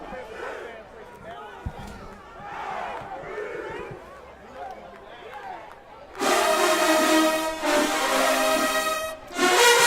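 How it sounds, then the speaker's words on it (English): A crowd at a marching band battle roars into loud cheering and screaming partway through, following a stretch of someone talking over murmuring spectators, then swells again at the end. "Now you hear the crowd"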